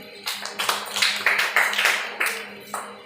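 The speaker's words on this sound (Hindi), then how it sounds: "ताली बजाओ सब लोग उसके लिए।" A classroom of students claps for a classmate in a school lesson: a scattered run of separate, uneven claps over about three seconds, fairly close, with a low steady hum underneath and no talk.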